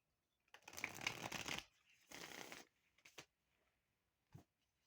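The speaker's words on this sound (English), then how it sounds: "Three shuffles to clear the energies of past readings." Tarot cards shuffled by hand in three separate bursts, a long riffling rustle followed by shorter ones and a final quick snap, close and clear in a quiet room with no talking.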